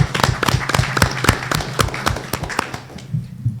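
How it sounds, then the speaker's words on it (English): A small audience at a community college board of trustees meeting claps in a thin, uneven burst of separate hand claps that fades out toward the end. "let's have a round of applause for them if we can"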